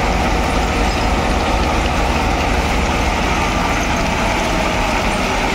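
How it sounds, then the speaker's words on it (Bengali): A stone-laden freight train unloading near Nasipur rail bridge makes a loud, unbroken rumble and roar that stays constant throughout, with heavy machinery and engine noise close by and no voices. "পাথর ভর্তি মালগাড়ি আনলোডিং শুরু হয়ে গেছে নসিপুর রেল ব্রিজের দিকে"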